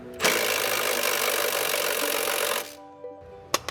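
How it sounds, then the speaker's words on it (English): An impact wrench hammers steadily on a suspension link nut on a Lexus IS300 for about two and a half seconds, loud and close, then stops, followed by a few faint clicks and knocks. "I'm gonna put an impact on here and see if I can get the nut off"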